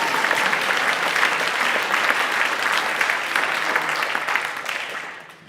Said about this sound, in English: let's clap, let's do it